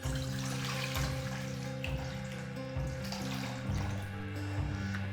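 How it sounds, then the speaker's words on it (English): Water poured into a bowl while making a kokedama moss-ball plant, a quiet continuous trickle beneath a steady low humming tone that shifts pitch every second or so. "Pour some water in the bowl."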